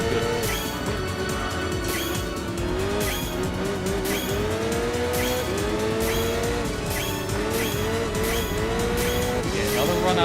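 A race car in Enthusia Professional Racing revs hard and downshifts. Its engine pitch wavers and steps down while a repeated rhythmic pulse runs underneath, and the sound stays loud and continuous throughout.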